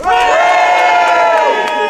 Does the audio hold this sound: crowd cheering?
yes